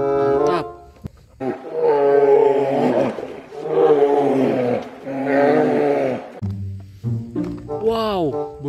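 Bear roaring in an animal-cleaning video game, several long, loud growling calls in a row with brief gaps between them.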